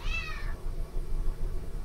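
A dark gray cat gives one short, close meow, then a quiet room with faint background murmur.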